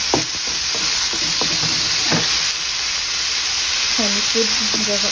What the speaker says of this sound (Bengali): এখন জাস্ট ফ্রাই করতেছি